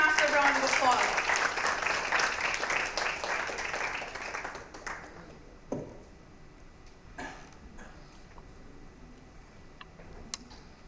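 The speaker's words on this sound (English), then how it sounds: "Put your hands together in a massive round of applause." Audience applause at a marketing conference fireside chat in Dubai, loud and dense for roughly four seconds before thinning to a few scattered claps, with voices and light tapping over the quieter tail.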